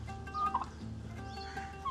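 Chickens cluck softly in a cage, with brief faint bird calls over a low hum of background noise.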